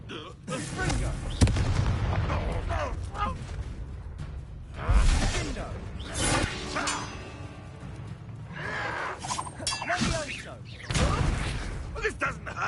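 Confringo spell explosions in Hogwarts Legacy, several fiery whooshes and booming blasts at irregular intervals, mixed with combat effects and characters' voices talking and shouting between them.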